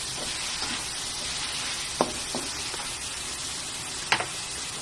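Chicken arroz caldo being stirred in a pot, a steady close sizzle and bubble with a few sharp spoon scrapes against the pot around the middle and near the end.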